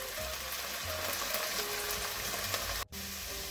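Sofrito sizzles in a pan as white wine cooks off, a steady close crackling fry with small pops and a brief dropout near the end, and no voices.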